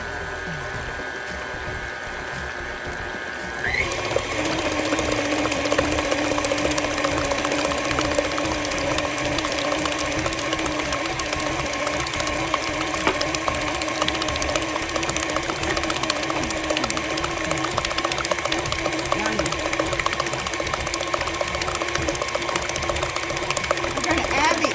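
An electric mixer starts up and runs steadily through sweet potato pie filling with brown sugar, a continuous whirring hum with rattly texture, close and fairly loud, after a brief quieter lead-in.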